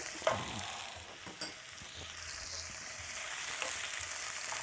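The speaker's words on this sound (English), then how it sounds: "And just quickly sauteing this off. Just give it a stir around." Half a small brown onion and garlic sautéing in a hot pan, a soft steady sizzle with a few light stirring knocks and no voices.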